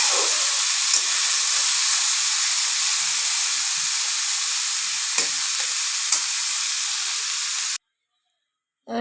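Chopped carrots and capsicum fry in hot oil with a bright, constant hissing sizzle and a few soft stirring clicks, before the sound cuts off abruptly near the end.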